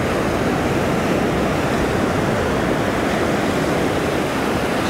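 Ocean surf on a warm beach roars loud and close, a dense continuous wash of breaking waves with wind buffeting the microphone and no talking.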